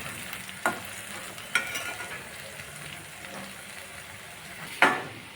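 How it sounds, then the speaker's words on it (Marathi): Onion frying in a pan with cumin and green chilli, a steady soft sizzle with a few sharp stirring clinks of a spoon against the pan, no voices. "आता कांदा घालून घेणार आहोत आपण आणि ह्याला पण भाजून घेणार आहोत"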